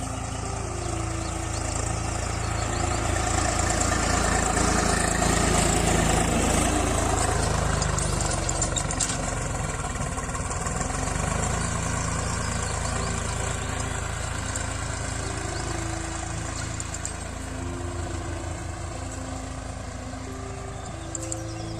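A tractor engine runs steadily in a rice field, with a continuous mid-to-low drone that swells and eases slightly as it works across the field.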